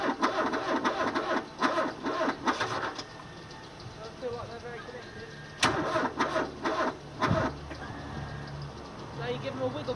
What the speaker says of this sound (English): I don't think this thing's just got the oomph to crank it over at a reasonable speed